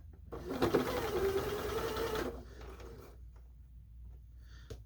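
Close sewing machine stitching quilt squares: one steady mechanical whirring run of about two seconds that stops abruptly, followed by quiet handling noises.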